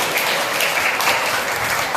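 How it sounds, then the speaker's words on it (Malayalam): A school assembly crowd at St. Charles ICSE School, Kadakkal, claps for a cultural group at a Keralapiravi celebration, a steady wash of applause filling the hall. "നമുക്ക് നല്ലൊരു കൈയടിയോടെ അവരെ ആശംസിക്കാം."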